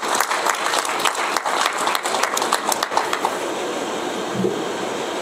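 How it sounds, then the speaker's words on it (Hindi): An audience at a Brahma Kumaris gathering in Rewa applauds in welcome, a loud, dense burst of clapping that thins out and fades toward the end. "हम आपस में एक दो को ताली बजा के स्वागत करें।"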